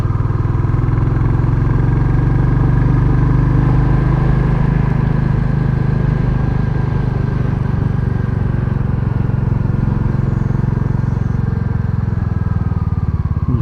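A Royal Enfield Classic 350 single-cylinder engine thrums steadily and loud throughout a ride, with a rough, gritty road noise underneath as the tyres run over gravel, no voices.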